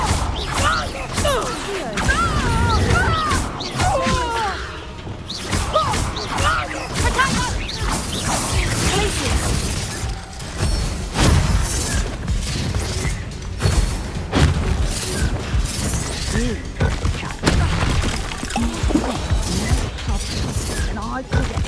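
Incendio and Confringo fire spells from Hogwarts Legacy burst out in bouts of dense crashing, booming and shattering combat noise, with thuds and whacks throughout, while game characters speak over the action.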